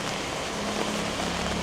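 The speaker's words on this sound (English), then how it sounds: "Yo, this rain is coming down heavy." Heavy rain pours on a Jakarta street in a dense, continuous hiss that stays steady and loud throughout, with no voices over it.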